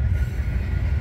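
A train passes beside a fence at about 5:30 in the morning, a deep, continuous rumble rolling on steadily, heavy in the low end with a faint metallic hiss above.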